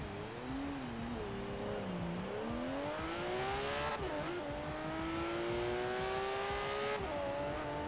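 A Porsche GT3 RS in Forza Horizon 3 with a naturally aspirated engine, revving loud and continuous, its pitch dipping and climbing through gear changes with sharp shifts, up close and with no voices.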